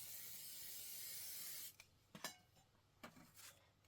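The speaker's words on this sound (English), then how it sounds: "give this a little shot of spray" Spray adhesive hisses from a can onto a quilt fabric piece in one steady burst of about a second and a half, followed by quiet rustling and soft handling of the fabric.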